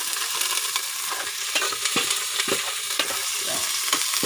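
Meat for pinakbet sizzles steadily in a blackened cooking pot while a utensil scrapes and stirs it in repeated knocks, close and clear with no talking.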